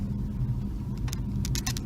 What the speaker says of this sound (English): something interesting about this car is it's all electric, so it's really quiet